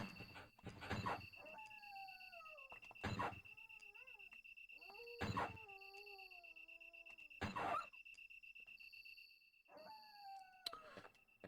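Dogs howl in the Sega Saturn version of Resident Evil, a series of drawn-out, wavering howls repeated every couple of seconds, with sharp bursts between them and a steady electronic hum underneath.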